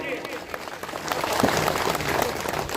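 An audience at a public event in Ramgarh, held for the visiting finance minister on a martyr's day, breaks into applause. The clapping is a dense, crackling patter that swells and holds, with voices mixed in.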